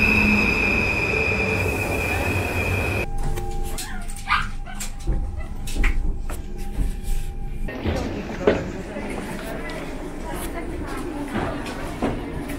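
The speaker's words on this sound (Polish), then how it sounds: "I pojadę Intercity Moniuszko flirtem" An Intercity Moniuszko train, a Flirt multiple unit, rolls along the rails with a steady rumble, wheel squeals and clattering rail joints, close by and continuous throughout.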